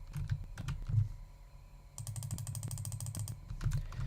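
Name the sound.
computer keyboard and mouse clicking while gaming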